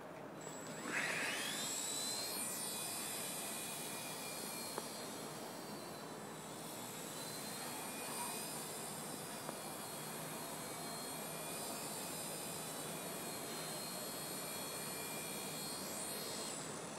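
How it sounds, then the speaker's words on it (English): Genius CP radio-controlled helicopter flying and landing: a continuous high-pitched electric whine with shifting tones as rotor speed changes, close and fairly loud for the whole stretch with no voices. "Nothing wrong with that landing there, Bob."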